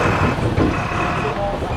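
A bus reversing on a busy Kathmandu street, with a repeating reversing beep and a truck-like engine rumble over loud, dense traffic noise, with faint voices in the mix.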